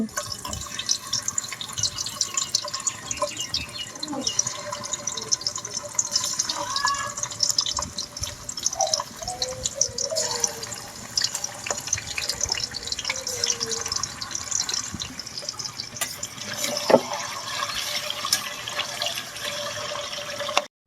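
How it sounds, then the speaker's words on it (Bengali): Eggs fry in hot oil for an egg curry, making a steady, close sizzling hiss that runs on without a break, with a few faint clicks and no talking. "তো তেলটা গরম হোক। এখন কিন্তু ডিম দিয়ে দিচ্ছি।"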